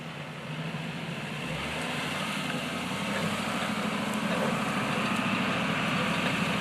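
A truck in four-wheel drive climbs a hill while work proceeds on a new well pump installation; a continuous low engine rumble with broad steady noise builds slightly and holds.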